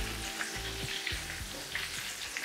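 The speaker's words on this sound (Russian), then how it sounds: "За счет того, что мы мясо отбили, оно очень тонкое, да, оно жарится реально очень быстро." Thin, pounded pork schnitzel fries in a pan with a loud, steady sizzle, close up, while a low rhythmic hum pulses in the background and no one speaks.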